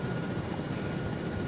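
A helicopter in a military shooter game, a steady close rotor drone and engine rumble filling the whole moment without change, no voices.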